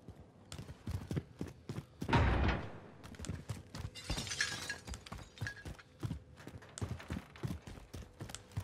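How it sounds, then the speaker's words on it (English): A window smashes in Call of Duty Warzone, one loud crash of breaking glass with a scattering shimmer, set among steady clattering footsteps and small impacts that continue throughout. "Is that you smashing the window?"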